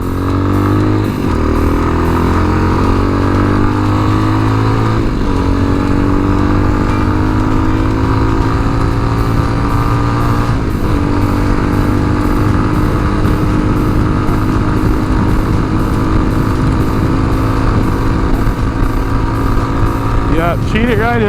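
A Tao Tao TBR7 125 motorcycle riding on a road, its small engine droning loud and steady with rising pitch through gear changes and brief dips between shifts, continuous and close.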